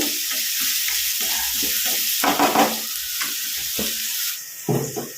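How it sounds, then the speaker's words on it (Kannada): Onions fry in a pan and are stirred, a close crackling sizzle with scraping bursts as the spatula moves, steady and fairly loud with no one talking. "ಸ್ವಲ್ಪ ಚೆನ್ನಾಗಿ ಫ್ರೈ ಆಗಲಿ ಈರುಳ್ಳಿ."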